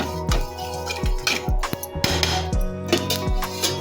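Cumin seeds dry-roasting in a pan, with a spatula knocking and clinking against the metal in a regular run of about seven strokes, close and fairly loud with no talking.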